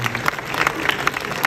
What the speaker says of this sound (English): That's the question that gets applause?